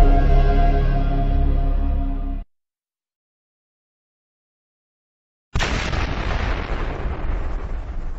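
A Big Bang explosion sound effect: a loud, sustained tonal swell cuts off into about three seconds of dead silence, then a huge, roaring, broadband blast erupts and rumbles on steadily to the end.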